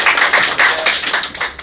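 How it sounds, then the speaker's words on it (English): A classroom group claps in a round of applause, a quick scattered run of hand claps that comes close and fairly loud with no one speaking. "Let's have a round of applause for Coco."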